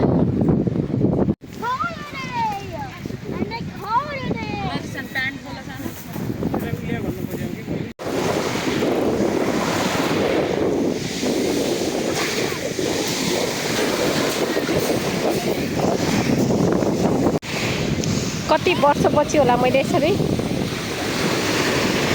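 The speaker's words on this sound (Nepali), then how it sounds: "समुद्र चाहिँ पहिलोचोटि यसको साउन्ड मलाई यति मन परिरहेको छ" Sea waves at Durdle Door on the English coast wash steadily in a continuous broadband surge, heard close and loud with wind buffeting the microphone, while a person talks over them throughout.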